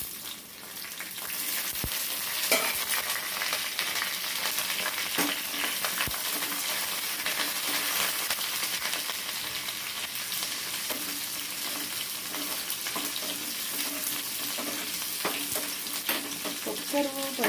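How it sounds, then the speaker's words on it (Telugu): Dried red chillies, curry leaves, cumin and crushed garlic fry in hot oil as a tempering for dal rasam, giving a steady close sizzle with faint crackles and stirring, no voices. "ఓన్లీ ఎండుమిరపకాయలు, కరివేపాకు, జీలకర్ర, ఎల్లుల్లిపాయ చెదురుగొట్టి ఇవి వేస్తాం"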